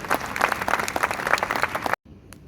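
Audience at a medical college coat ceremony claps loudly in a dense, steady burst to welcome the chairman of an educational society to the dais, cutting off abruptly near the end.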